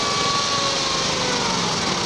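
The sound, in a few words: Case 222 / Bolens GTX16 garden pulling tractor engine revving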